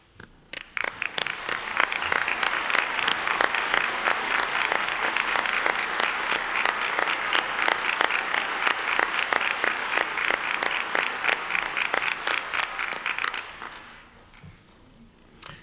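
Sustained applause for the faculty at a college commencement ceremony, a large crowd clapping steadily and fairly loudly for about fourteen seconds before it quickly fades to quiet.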